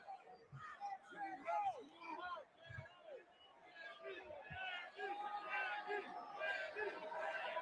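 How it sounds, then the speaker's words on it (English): A wrestling arena crowd cheers during a WWE SmackDown contract signing between Cody Rhodes and Randy Orton, a sustained roar of voices with scattered shouts that swells toward the end. "And the crowd still cheering for him."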